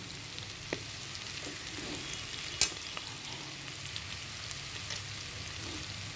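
Onion and green chilli fry in hot oil for a mild potato stir-fry, a constant crackling sizzle with scattered sharp pops, close and steady with no voices.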